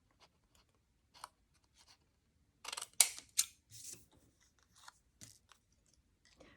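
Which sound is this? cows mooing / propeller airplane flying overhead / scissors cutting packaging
scissors cutting packaging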